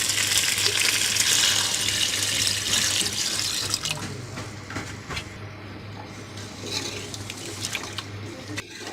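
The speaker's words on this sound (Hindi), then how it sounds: "अब हम इसमें यखनी ऐड कर देंगे।" Yakhni stock pours into browned mutton for nihari, a steady liquid gush that starts loud and gradually softens over several seconds, heard alone with no talk.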